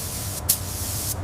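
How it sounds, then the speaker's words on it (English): Short hissing bursts of a paint spray gun applying metallic gold paint to a Range Rover, two quick passes over a low steady hum. "The pass of the spray gun deepens the vibrant color"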